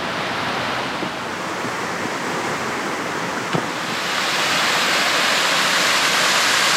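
Sea water surging through holes in rock along the coast between Narrabeen and Curl Curl, a steady roaring wash of surf that swells louder in the second half, with one brief knock partway through and no talking.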